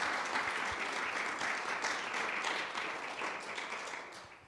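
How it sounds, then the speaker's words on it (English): An audience applauds the mentors at a venture incubator pitch event, a steady crowd of clapping hands held at an even level before tapering off toward the end, with no speech. "So if we could have a round of applause for them."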